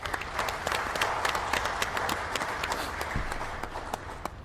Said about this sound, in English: let's give that committee a round of applause.